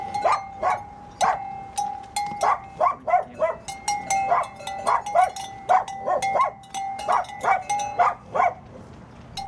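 A dog barks repeatedly on a mountain hiking trail near Salerno, Italy, with sharp, evenly spaced barks at moderate distance, a few quicker yips mixed in, and faint ambient noise between them.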